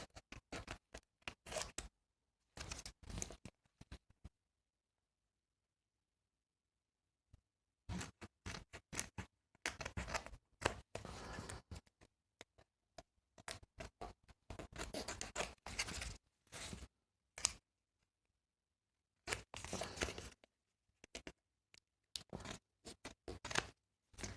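Paper is cut with scissors for a belly band craft in quiet, separate bursts of snipping and rustling, with longer silent pauses between the clusters of cuts.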